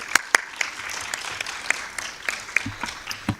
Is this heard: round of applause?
yes